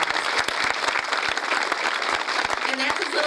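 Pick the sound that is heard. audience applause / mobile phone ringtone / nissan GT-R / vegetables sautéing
audience applause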